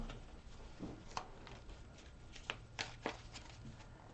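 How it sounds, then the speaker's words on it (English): A tarot deck is shuffled by hand at close range with soft riffling and several sharp card slaps, quiet and without talk. "One more shuffle for Taurus."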